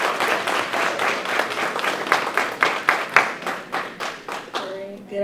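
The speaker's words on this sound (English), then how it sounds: "Please give her a round of applause." Audience at a racial justice essay and creative arts awards ceremony applauding a student poetry winner, steady clapping from a crowd that gradually thins and fades as a voice begins.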